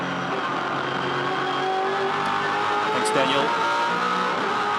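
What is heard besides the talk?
V8 Supercar race car engine at Eastern Creek Raceway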